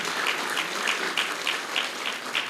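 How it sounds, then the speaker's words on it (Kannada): An audience at the Shraavan Sangeeth music programme in Dharwad applauds: a thick, continuous wash of clapping with a faintly rhythmic pulse, loud and unbroken, with no speech over it. "ಒಂದು ಚಪ್ಪಾಳೆ, ಜೋರಾಗಿ ಚಪ್ಪಾಳೆ ಬರಲಿ"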